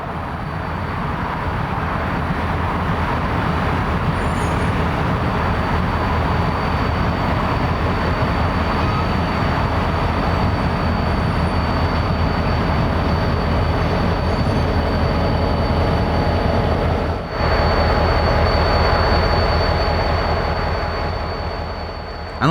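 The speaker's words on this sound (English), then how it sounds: "another train rolled across the bridge, creeping up to a stop at the absolute signal" A BNSF freight train, the dog food job returning from the Purina mill in Edmond, rolls slowly across a bridge toward a stop at a signal: a steady, loud rumble of rail cars with a faint high whine, and a brief dip near the end.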